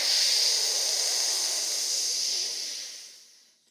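One long, deep breath drawn in during a breathwork exercise, a close, airy hiss that holds steady for about three seconds before fading out.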